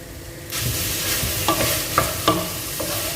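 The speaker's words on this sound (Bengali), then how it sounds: "এখন আমি অ্যাড করতেছি টমেটো কুচি।" Chopped tomato frying in butter in a pan for masala noodles, a steady close sizzle with a few sharp scraping stirs of a spatula.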